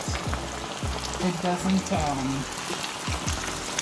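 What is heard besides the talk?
battered fish fillets frying in oil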